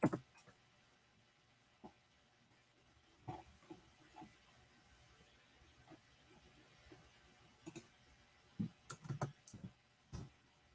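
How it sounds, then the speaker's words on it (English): Faint, sparse keystrokes on a computer keyboard, typed in short irregular bursts over a low steady room hiss, with no voices. "I know you guys can hear me typing."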